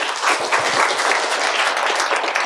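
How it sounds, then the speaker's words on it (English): Audience applause at a talk on time management and productivity, a steady dense wash of many hands clapping, loud and close, sustained evenly throughout with no voices over it. "Round of applause"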